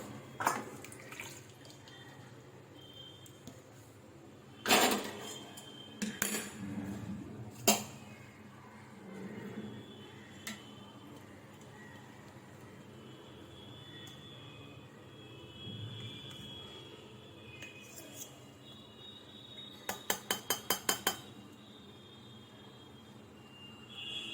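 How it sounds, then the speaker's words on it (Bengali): Rui posto, a Bengali rohu fish curry in poppy-seed paste, scraped and poured out of a pan off the flame, with repeated metal clatters of pan and spoon, a scrape, and a rapid clinking run near the end. "গ্যাস নিভিয়ে দিয়েছি এবার রুই পোস্তটা ঢেলে দেবো"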